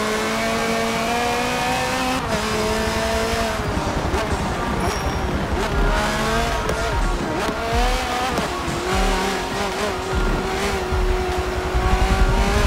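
Nissan GT-R in Forza Motorsport 7 on the Nürburgring, its engine held at full throttle with a steady high rev tone rising and dipping through gear changes, loud and close, with brief tire squeal.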